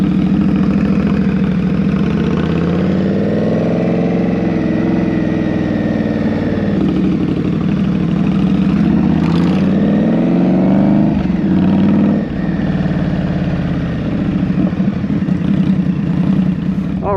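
Indian Scout Rogue motorcycle engine running steadily in New York City traffic, a loud, continuous mid-range drone with slow swells in pitch as it revs up and eases off, heard alone without voices.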